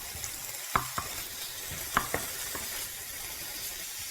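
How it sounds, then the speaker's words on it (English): Bacon and sauce fry in a frying pan, giving a faint, steady sizzle broken by a few sharp clicks and taps of a utensil against the pan. "Throw it into the frying pan."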